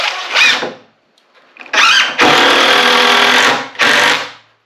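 Power drill drives 2.5 inch screws into boards of a simple DIY woodshed, several short whirring bursts with a longer steady run in the middle, loud and close, separated by brief pauses.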